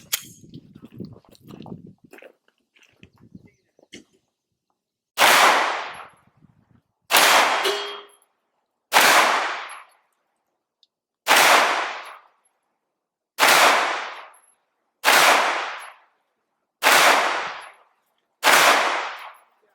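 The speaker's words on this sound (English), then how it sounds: "I'm out here at the range today with my Xfive Legion. Gonna take some shots with it." Pistol shots from a Sig Sauer P320 XFive Legion ring out at an outdoor range, eight sharp loud reports spaced roughly one to two seconds apart, preceded by quiet handling noises.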